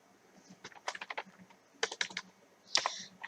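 Someone types on a computer keyboard nearby. Quick, irregular bursts of clicking keystrokes come close together, with a sharper key press near the end.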